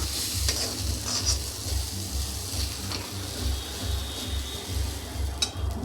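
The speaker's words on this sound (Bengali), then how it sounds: "এটাকে একটু নাড়ানাড়ি করে জল দিয়ে দেবো" A spoon stirs mung bean pitha mixture in a sizzling pan, giving rhythmic scraping strokes over a low steady fry, close and moderately quiet, with no one speaking.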